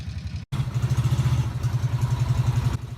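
Moto Morini 3.5 V-twin motorcycle engine running close by, a loud, steady throbbing pulse with a brief cut near the start, then continuous rhythmic engine beat, no talking.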